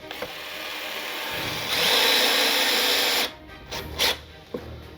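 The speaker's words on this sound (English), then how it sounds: "So we'll go ahead and start the top screw." A power drill drives a screw into a wall for a curtain rod bracket: a steady whirring run that rises in pitch and loudness midway, then stops, followed by a couple of short bursts, close up with no talking.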